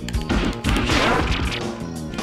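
A loud, busy burst of crashing impacts from an explosion finisher in a Street Fighter EX Plus Alpha combo, dense layered hits filling the whole span with a brief dip midway and no talk.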